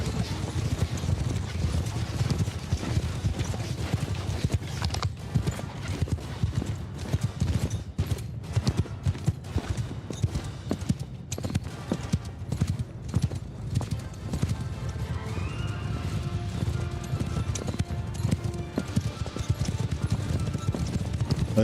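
Horse archers' horses gallop in the War Sails video game, a dense, continuous clatter of many hooves with scattered sharp impacts mixed in, fairly close and steady throughout.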